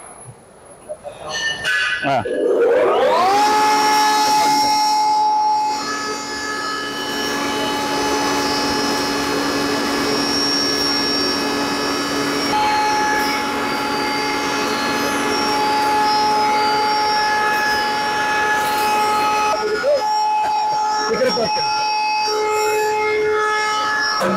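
A flour mill machine grinding chili powder starts up with a rising mechanical whine, then settles into a loud, sustained tonal drone with steady grinding hiss, shifting pitch slightly near the end, running alone without voices.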